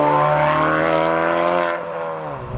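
Honda Civic Type R FK2 with a Martilius exhaust, loud and near, its engine droning steadily with a rich harmonic tone before easing off as the revs drop.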